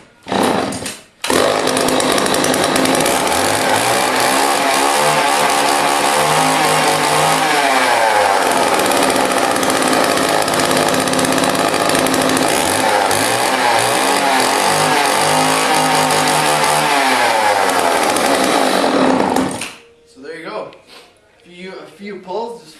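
A small engine cold-starts after a few pulls with the choke on, a chainsaw-like two-stroke that catches and runs loud and steady for nearly twenty seconds before cutting out, followed by brief clatter.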